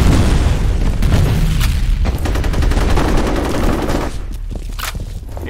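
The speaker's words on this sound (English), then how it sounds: "Grenade out!" Grenade blasts and rapid gunfire in F.E.A.R. Combat: a loud, dense stretch of booming explosions and sustained automatic fire that eases slightly toward the end, with no voices.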